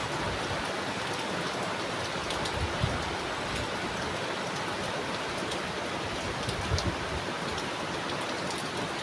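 Heavy rain pours onto leafy taro plants in a dense, loud, unbroken hiss, steady from start to finish with no voices.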